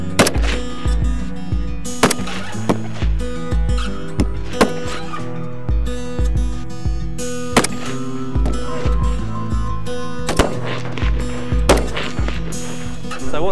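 Cadets fire rifles down range at an outdoor shooting range, sharp loud reports coming one after another at an irregular pace, each followed by a short ringing decay.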